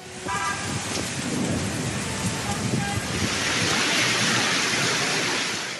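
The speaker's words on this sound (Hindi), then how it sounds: "इस्लामाबाद में शदीद बारिश और यालाबारी ने तबाही मचा दी।" Heavy rain pours steadily throughout a hailstorm in Islamabad, a dense continuous roar with faint low rumbles that could be distant thunder, and no talk over it.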